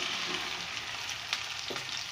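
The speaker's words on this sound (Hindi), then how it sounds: "तो अब इसमें मैं डालूँगी भिंडी की सब्ज़ी" Cut okra pieces tipped into hot oil with onions in a home kitchen, giving a steady close sizzle with a few soft stirring knocks and no talk.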